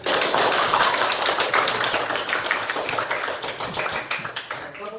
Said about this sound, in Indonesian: Kita beri aplaus semuanya, ayo tepuk tangan semuanya.